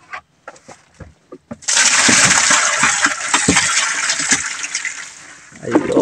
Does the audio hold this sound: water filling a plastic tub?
yes